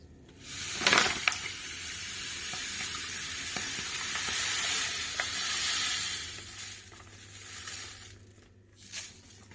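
Granulated sugar, 900 grams, pouring into a plastic wine-making starter kit bucket, a steady close grainy hiss that swells and holds for several seconds before tapering off, with no voices.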